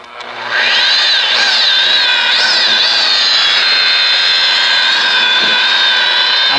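Electric polisher fitted with an 8-inch pad buffing a yellowed, discolored car headlight, a loud steady high whine that spins up at the start and holds, with slight pitch wobbles as it works.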